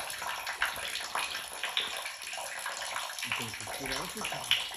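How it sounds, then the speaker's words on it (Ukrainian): Water runs steadily into a rural septic pit, a continuous splashing flow heard close up, with people talking over it toward the end. "От текла вода."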